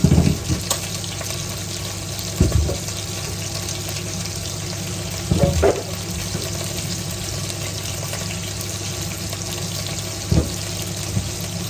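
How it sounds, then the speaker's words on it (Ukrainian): Tap water runs steadily into a pot for a pea soup, a continuous hissing stream with a few brief clunks and splashes scattered across it. "сюди, сюди, наберемо трошки води"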